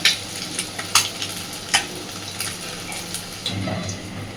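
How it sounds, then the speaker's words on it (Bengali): Eggs frying in a pan with a steady low sizzle, punctuated by a few sharp spatula scrapes and taps against the pan; no one speaks. "দেখুন, ডিমগুলোর দু পিঠই সুন্দরভাবে আমি ভেজে নিয়েছি।"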